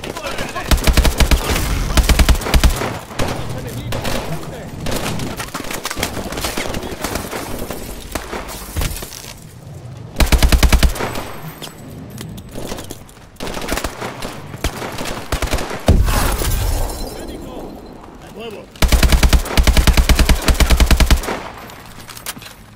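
An armored turret machine gun fires in the Call of Duty Advanced Warfare video game, pounding out long, loud automatic bursts that recur over the battle din while voices shout in the background.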